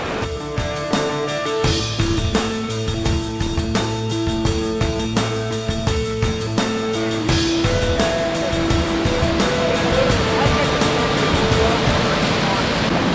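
Rushing water at Swallow Falls in Garrett County, Maryland, a steady broadband roar that grows fuller in the second half, with music playing over it throughout.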